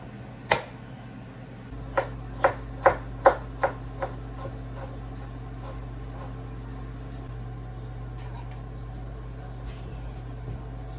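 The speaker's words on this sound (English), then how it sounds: "I've got all of our vegetables chopped now." Knife chopping vegetables, unpeeled carrots and onions, on a cutting board for turkey and rice soup: a sharp knock, then a quick run of five or six crisp chops, close and clear over a steady low kitchen hum.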